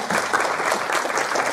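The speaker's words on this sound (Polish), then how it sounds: "Poproszę o oklaski." An audience at a preview film screening claps steadily, a dense continuous wash of applause throughout.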